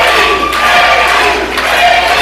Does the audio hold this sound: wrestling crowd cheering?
yes